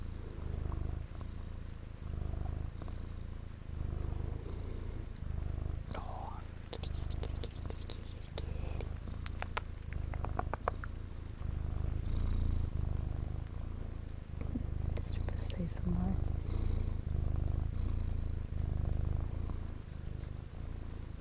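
A cat purrs steadily in rhythmic pulses while being petted close to the microphone, with soft handling rustles and a few quiet spoken words over it.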